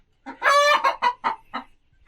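Hens in a coop cluck and squawk close by in a short run of loud, choppy calls.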